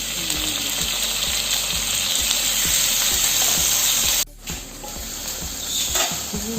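Two small tomatoes drop into a hot pan of seasoned fermented rice, setting off a steady, loud sizzle with stirring scrapes, a brief dip midway, then frying resumes.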